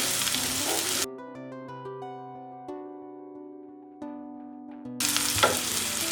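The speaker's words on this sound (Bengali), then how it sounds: "পেঁয়াজ এবং রসুনটাকে ভেজে নেব" Onion and garlic frying in a pan for a bitter gourd stir-fry give a steady, close sizzle at the start and end. A sustained melodic tone fills the middle and masks the pan.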